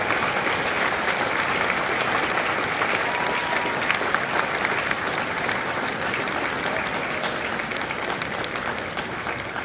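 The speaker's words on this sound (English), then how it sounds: "Ladies and gentlemen, a round of applause for their dedicated service to corps and country." Large crowd at a Marine Corps recruit graduation ceremony in San Diego applauding continuously, a loud, even roar of many hands clapping in a big outdoor space for nearly ten seconds.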